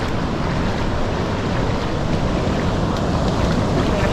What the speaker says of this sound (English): This is the open ocean in the Pacific.